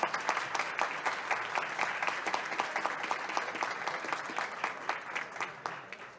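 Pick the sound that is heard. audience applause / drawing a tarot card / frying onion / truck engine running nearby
audience applause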